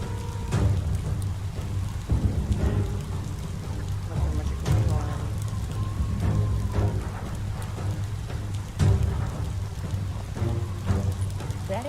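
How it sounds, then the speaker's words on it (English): Steady rain with low rumbling thunder in the video game Biomutant, a continuous wash of downpour under a spoken voice and game sounds, with occasional louder bursts. "Why is it even raining?"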